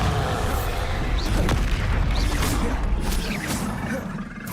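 A Bombarda spell explosion in the Hogwarts Legacy video game erupts as a loud, dense booming blast with crashing, whooshing debris that stays heavy for several seconds before tapering slightly.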